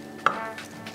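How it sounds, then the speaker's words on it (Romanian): A single crisp knife stroke on a board while a boiled egg is chopped finely, one short close tap and then quiet room tone. "tăiem un ou mărunt"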